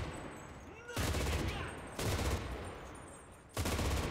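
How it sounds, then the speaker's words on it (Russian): Machine gun in the World War II shooter Enlisted fires several sharp, loud bursts at close range, each around a second long with short pauses between them, over faint background ambience. "Главное сильно не перегревать пулемет."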